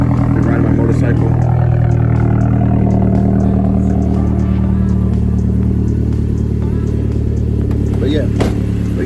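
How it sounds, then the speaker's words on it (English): A Mazdaspeed 3 engine on a cold start, running loud and close with a steady low drone and a brief rise in revs, while a voice talks faintly over it. "Start up for you guys. Cold start."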